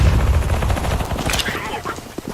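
A flashbang grenade going off in a tactical shooter game, heard as a dense loud burst of gunfire-like bangs and crackle lasting a couple of seconds, with game noise around it.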